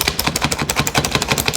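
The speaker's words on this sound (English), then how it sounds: "And we're going to chop some nuts." A hand-operated nut chopper chops nuts for bourbon balls with fast, steady, repeated chopping strikes close up, with no talk over them.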